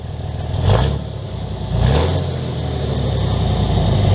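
Two quick throttle blips from a 2008 Dodge Cummins 3500 turbo diesel pickup rise above its clattering idle, each rev swelling and falling back, loud and close.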